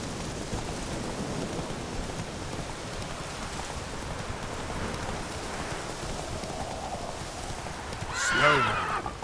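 Roach, the horse in the video game The Witcher 3, gallops with hoofbeats under steady rain, then lets out a loud, shaky neigh near the end.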